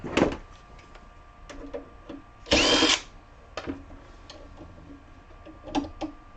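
Power drill driving out fasteners from an expensive UPS unit during a teardown, with a loud whirring burst in the middle and scattered clicks and taps of handling around it, no talking.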